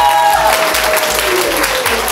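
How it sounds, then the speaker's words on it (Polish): An audience at a Polish beauty-day event claps for a presentation of three women's makeovers, giving brief, steady applause that sits beneath a low, pulsing musical backing, with a voice talking over it. "te oklaski są jak najbardziej zasłużone"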